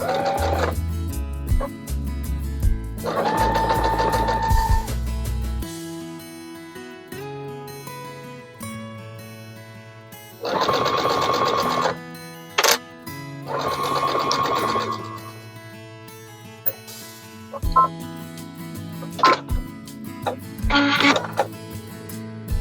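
A sewing machine runs in several bursts, stitching quilt binding at a quarter-inch seam allowance, whirring steadily during each stretch before stopping, loud and close, with gentle music underneath.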